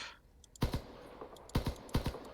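Four sharp weapon shots ring out in the vehicle combat game Crossout, each a punchy double crack, spaced irregularly over a quiet background.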